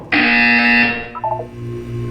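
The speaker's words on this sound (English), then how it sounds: "You will hear a buzzer. When you hear the buzzer, look up at the ceiling." A loud electronic buzzer sounds in the video game Portal 2, a single harsh sustained tone of nearly a second, followed by a few quieter chiming blips and a low hum.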